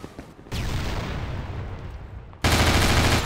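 Gunfire from a weapon in Half-Life 2 on the Highway 17 stretch, a loud sustained burst of rapid shots that breaks off briefly, then resumes even louder.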